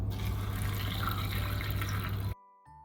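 Water pouring steadily into a bowl of washed sago pearls, a continuous close splashing fill for over two seconds before stopping abruptly.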